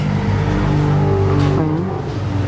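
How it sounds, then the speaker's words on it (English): A motor vehicle passing on a nearby highway, heard as a steady loud engine drone with shifting tones that swells slightly mid-pass, with no talking. "Come on, motorcycle."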